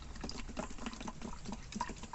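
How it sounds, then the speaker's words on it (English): A paintbrush is swished and rinsed in a small pot of dirty water, giving faint, soft sloshing and patter with quick, uneven little splashes. "So just give it a little rinse in a bit of water"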